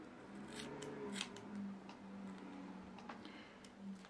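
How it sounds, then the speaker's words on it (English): Scissors snipping through hair during a home haircut, a steady run of small close crisp cuts over a low background hum, with no talking. "let's trim it again"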